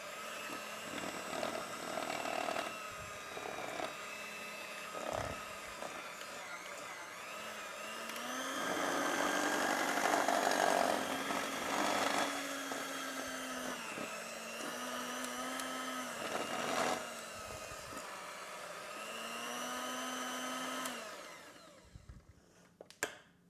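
An electric mixer beats gingerbread cookie dough, a steady motor whir with pitch shifting as the load changes, growing louder for a stretch in the middle before winding down near the end.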